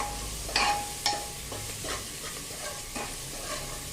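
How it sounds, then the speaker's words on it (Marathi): Onion sautéing in a pan for a village-style onion-potato curry, a faint low sizzle with a few scattered spatula scrapes and light knocks, one brief metallic ring early on. "मस्त कांदा ट्रान्सपरंट होईपर्यंत छान सोनेरी रंगावर परतून घ्यायचा।"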